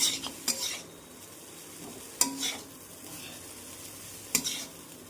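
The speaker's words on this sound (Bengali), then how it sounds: "চাউমিনগুলোকে ভালো করে নেড়ে ছেড়ে নিচ্ছি।" Egg chow mein noodles tossed and stirred in a hot frying pan, with soft frying sizzle and three sharp bursts of utensil scraping against the pan at regular intervals, close and fairly loud.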